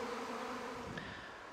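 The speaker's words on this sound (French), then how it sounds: "Sur ces images, vous voyez que je suis dans le nuage d'abeilles, sans protection, et ça ne pose aucun problème." A natural swarm of honey bees buzzes as a dense, steady drone from the cloud of insects, fairly faint and continuous with no voices.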